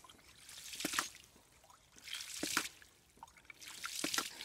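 Water trickling in small spurts from a homemade inch-and-a-quarter ram pump, faint and close, coming in three uneven surges.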